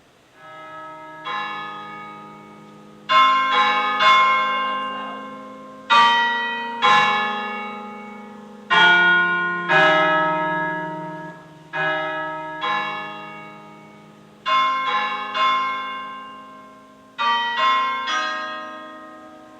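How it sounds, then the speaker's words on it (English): Church bells from The Verdin Company ring in a different bell voice, with a series of struck bell chords at irregular intervals, each ringing out and decaying under the next, loud and clear with no talk. "This is a different bell voice."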